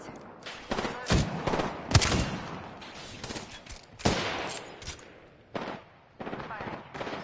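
Video game gunfire rattles in rapid bursts and volleys of shots, loud and dense with short pauses between, while spoken voice lines sit underneath.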